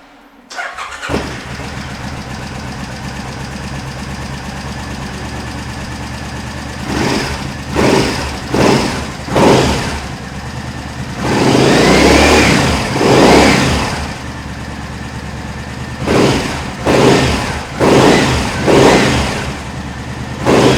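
A Triumph Speedmaster motorcycle engine cranks and fires, then settles into a steady, loud idle, broken by several short throttle blips and revs before it drops back to idle.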